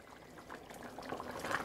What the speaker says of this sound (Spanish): Le agregan un poquito de agua caliente.